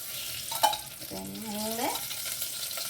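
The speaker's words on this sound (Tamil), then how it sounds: "எண்ணெய் ஊற்றிக்கிறேன்." About four spoonfuls of oil pour into a dry, hot pan with a brief rising gurgle, followed by a faint, steady sizzle up close.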